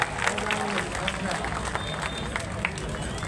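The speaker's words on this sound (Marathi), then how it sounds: "आपण सर्वांनी टाळ्या वाजवाव्या जोरदार" Audience applause at a police superintendent's felicitation ceremony, a steady wash of clapping from a crowd over background hubbub, continuous through the whole stretch.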